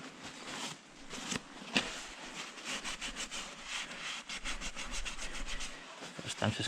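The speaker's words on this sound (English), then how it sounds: "First I'm just gonna rub it dry." Repeated rough rubbing strokes as a tire surface is wiped dry by hand in a garage before cleaning with alcohol solution, with uneven scraping bursts at close range and no talking.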